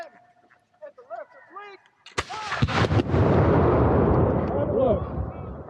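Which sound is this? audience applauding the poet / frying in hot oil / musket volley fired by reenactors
musket volley fired by reenactors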